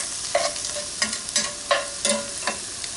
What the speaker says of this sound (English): I'm going to throw in my brown sugar. Just melting that down.